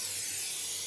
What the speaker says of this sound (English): spray around the edge there.